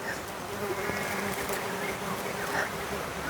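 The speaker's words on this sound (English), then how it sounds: "There's one peacock carpenter bee and a great carpenter bee" Steady insect buzzing from peacock carpenter bees and great carpenter bees around a flowering tree in Australia, continuous and moderately close, with a soft airy background and no clear talk.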